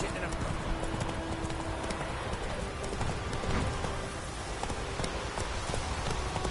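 Horse hooves clip-clopping at a steady gallop in a PS4 video game, a rapid continuous rhythm against a hissing, rain-like background, with a voice speaking over it.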